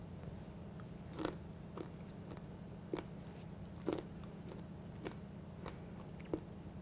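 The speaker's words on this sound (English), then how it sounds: "I'm going to use my fingers to eat it. It's still hot, so it's not going to be quite as crunchy" Someone eats hot, fresh Mexican-style roasted garbanzo beans with their fingers, with soft, close crunches and bites at irregular intervals over a low steady hum.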